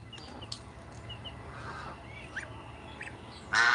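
A domestic goose gives a few faint, scattered honking calls over low background hum. A louder burst of noise cuts in at the very end.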